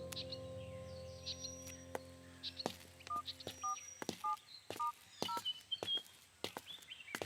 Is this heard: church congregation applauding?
no